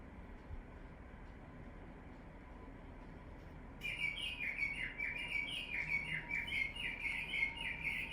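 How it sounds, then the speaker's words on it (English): After a few seconds of low steady hum, a recorded bird song starts up, with rapid high chirping trills repeating over the background drone. "that's our bird clock sounding off"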